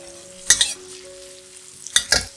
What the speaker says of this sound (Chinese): 姜和香菜爆香。